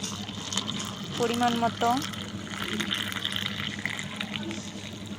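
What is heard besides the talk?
hot water being poured into a cup of tea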